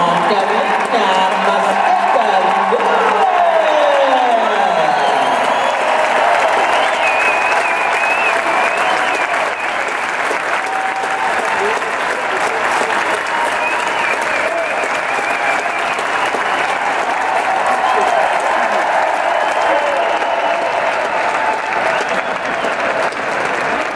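Sustained loud applause from a large crowd at a basketball championship awards ceremony, steady clapping filling the arena for the whole stretch with a low rumble fading early on.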